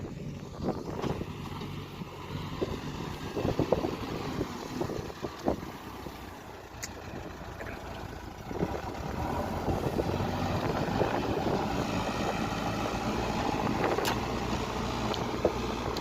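A JCB excavator loads soil into a tractor trolley, its diesel engine rumbling steadily throughout with scraping and knocking of earth and metal. The machinery grows slightly louder and denser midway, with wind buffeting the microphone.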